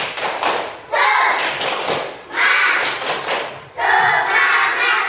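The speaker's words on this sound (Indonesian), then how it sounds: "Tepuk semangat." A school class performs the "tepuk semangat" clapping routine, with loud rhythmic bursts of claps and thumps arriving in three waves amid chanting and group voices.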